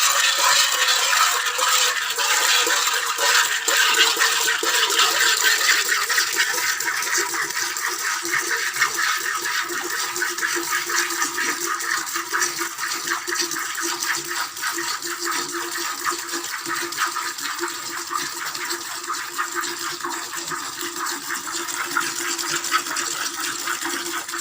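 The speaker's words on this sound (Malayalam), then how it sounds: "മാക്സിമം നമ്മൾ ഇങ്ങനെ പിടിച്ച് ഇങ്ങനെ ഫുൾ കൈ കൊണ്ട് തന്നെ കറക്കുക" Milk squirts into a pail as a cow is hand-milked with both hands: a rapid, steady, hissing stream of strokes, close and fairly loud, running without pause.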